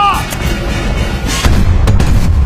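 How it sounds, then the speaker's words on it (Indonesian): Cannon fire from an animated film, heavy booming blasts aimed at a tower, loud and rumbling with repeated thuds, close and dense. "menyuruh para bawahannya untuk menembakkan meriam itu ke arah menara"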